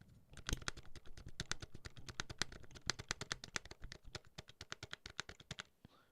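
Jammed computer keyboard keys pressed in a long steady stream of sharp, rattly clicks, close and fairly loud, with no voices.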